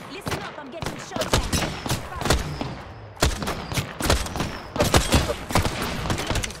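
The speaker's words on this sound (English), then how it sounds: "Listen up, I'm getting shot." Rapid gunfire in Apex Legends as the player takes hits, with sharp, loud bursts of shots cracking in quick succession, brief pauses between volleys and occasional thuds.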